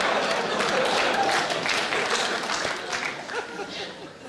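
A comedy-show audience bursts into applause with scattered laughter and chatter, a dense wash of clapping that stays strong before gradually thinning out toward the end.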